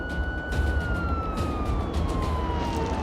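A police car siren wails loud and near in a steady, slowly falling tone over a dense rumble, with no voices.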